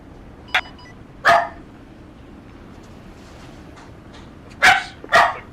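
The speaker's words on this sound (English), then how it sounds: "that sounds a whole lot like barking" Dog barks sound during an Arma 3 military game session: four sharp, fairly loud barks in two spaced pairs, separated by quiet background hiss with no talking.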